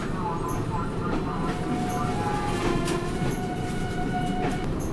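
A Gatimaan Express AC chair car train in motion, heard from inside as a loud, continuous rumbling roar with faint rhythmic clicks and a few thin high squeals running through it.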